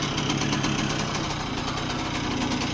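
A Bridgestone 60 Sport motorcycle engine, just rebuilt with new bearings and seals, runs steadily on a ride with a fast, even buzzing putter that stays close and loud throughout with no pauses.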